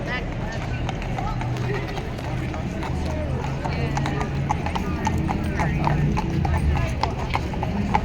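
Horses of the King's Horse Guards clip-clop steadily on hard ground at a ceremonial changing of the guard in London, many hooves beating in a continuous rhythm with occasional whinnies, while someone talks over them.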